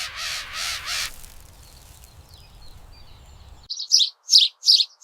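A crow caws in an animated forest tale, several loud harsh caws in quick succession at the end, after a brief earlier noisy burst and a quiet low hum.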